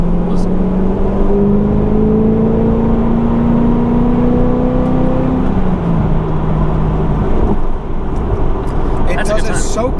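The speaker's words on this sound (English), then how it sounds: "you can hear the whine pretty distinctly in this car" A 2009 Corvette ZR1 "Blue Devil" accelerates, its supercharger giving a steady rising whine over a loud, close engine drone heard from inside the car.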